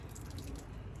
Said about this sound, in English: so we're gonna add some water there